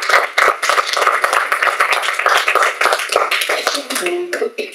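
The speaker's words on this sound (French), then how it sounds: "on les applaudit bien fort" Audience applause at a talk on rebuilding after harassment using hypnosis and therapy techniques, a dense steady patter of many hands clapping for nearly five seconds before thinning out near the end.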